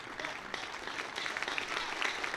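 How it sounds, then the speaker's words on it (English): County Championship cricket crowd applauding Craig Overton at Somerset vs Essex, a soft, distant, continuous patter of clapping heard from afar. "So more applause for the big man. Richly applauded."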